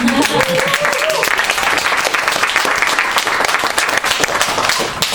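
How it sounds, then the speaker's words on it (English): Loud, sustained applause from an audience at an open mic night run by undocumented youth, a thick, continuous wash of clapping with a brief voice rising above it at the start. "applause"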